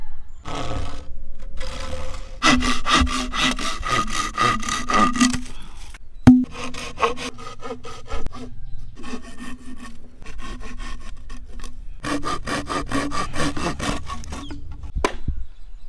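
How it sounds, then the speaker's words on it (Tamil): Bamboo being sawn by hand to cut it for cooking noodles inside, heard as repeated rasping back-and-forth strokes in bursts with short pauses, close and fairly loud. "இப்போ ஃபர்ஸ்ட் மூங்கியை கட் பண்ணி வச்சுப்போம்."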